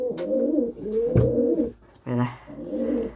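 A newly caught, injured but living pigeon coos close by in repeated low, throaty phrases, with a brief pause between calls and a short spoken word mixed in.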